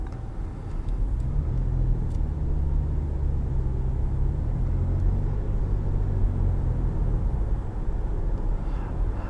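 A 2018 Lexus RX450h F Sport drives in Boston traffic, heard from inside the cabin as a steady low road and engine rumble with no talk.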